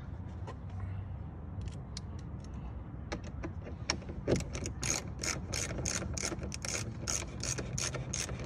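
A ratchet fitted with a 10 mm socket clicks in quick repeated bursts while tightening the bolts of an electric Honda Clarity side mirror, the sharp pawl ticks growing denser and louder toward the end over a low background hum.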